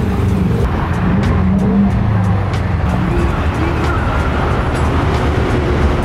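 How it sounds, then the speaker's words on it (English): Loud, steady freeway traffic roars nonstop beside a Saturday morning car meet in the Inland Empire, with a dense, constant rumble of passing vehicles close by. "It's loud here at the freeway."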